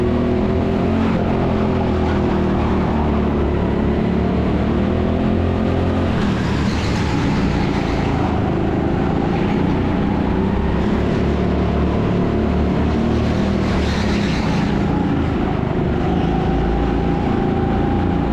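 Rental go-kart engines at TeamSport Sheffield indoor track, a steady loud buzzing drone with rising and falling pitch as a fast kart comes flying past and others run nearby, continuous throughout with no talk.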